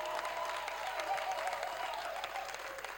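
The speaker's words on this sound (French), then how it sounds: "On va l'applaudir aussi." Audience applause at a live Vox Christi choir concert, a dense steady wash of clapping from a crowd that holds evenly for the whole stretch at moderate distance.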